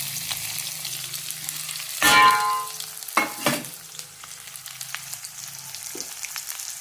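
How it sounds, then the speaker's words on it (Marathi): Mustard seeds, cumin and finely chopped onion sizzle in hot oil, a steady close frying hiss with a loud burst as ingredients hit the pan, a couple of sharp clatters, then a quieter continuous sizzle. "इकडं तेल तापायला ठेवलं आहे. मोहरी जिरे आणि एक लहान कांदा बारीक करा."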